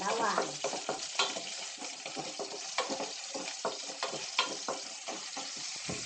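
Garlic hits hot cooking oil and crackles loudly, with a dense, continuous sizzle and spatter close up, broken by scraping stirs; no talking.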